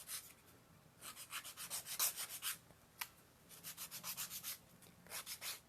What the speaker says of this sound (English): I take the cork and I sand the edges down